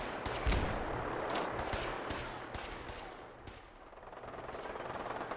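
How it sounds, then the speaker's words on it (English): Pipe gun shots in the Fallout 4 video game, a run of sharp gunfire bursts over a dense, noisy in-game background, with no talking. "I really do like these pipe guns."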